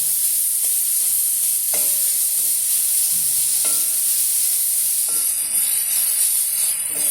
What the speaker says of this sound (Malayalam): ഗ്രേറ്റ് ചെയ്ത് വെച്ചിരുന്ന ക്യാരറ്റാണ്, അതും ഇതിലേക്ക് ഇട്ട് കൊടുക്കുകയാണ്